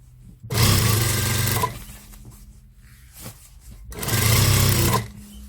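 A sewing machine stitches fabric for a pair of wide-leg pants in two loud, steady whirring bursts of about a second each, separated by a quieter pause with light handling noise.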